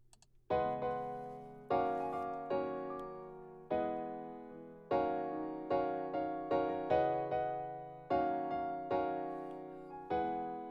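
Piano chords played alone, a sequence of sustained struck chords in an uneven rhythm, each decaying before the next, clean and close.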